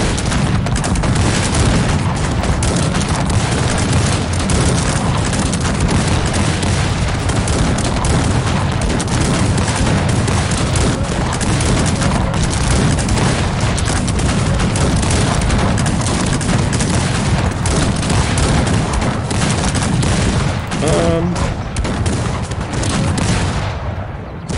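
Cannon fire and explosions from a Cossacks 3 strategy battle roar continuously, dense overlapping booms and volleys forming a loud, unbroken barrage that fades out near the end.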